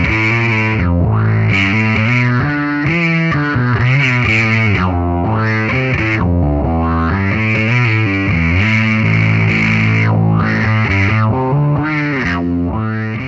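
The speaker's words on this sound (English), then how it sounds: "today we're checking out the Cliff Burton Tribute Power Fuzz Wah by Morley" A Morley Cliff Burton Tribute Power Fuzz Wah bass pedal plays a loud, continuous run of heavily distorted, sweeping wah bass notes, alone without talk.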